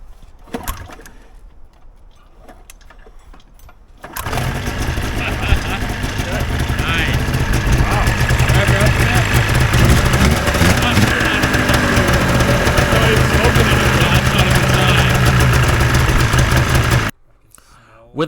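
A cheap used snowmobile's engine, started by pull cord, catches and runs loud and steady at close range for about thirteen seconds before cutting off abruptly, with quieter handling sounds and voices before it starts.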